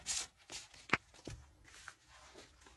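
A deck of tarot cards is shuffled by hand for a second draw, giving soft riffling and slapping sounds with a few sharper taps, close but quiet and irregular over about three seconds.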